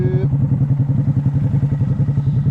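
A Honda Monkey motorcycle engine runs close and loud on a UK road tour near Fort William, its small single cylinder thumping in a fast, even pulse throughout.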